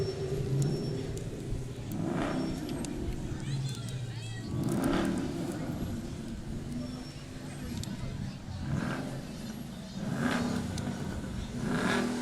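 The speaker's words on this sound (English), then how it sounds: "Engine sounds good too." A car engine revs repeatedly as it passes along an Independence Day parade route, the rumbling surges rising and falling every few seconds beneath crowd chatter and nearby talk.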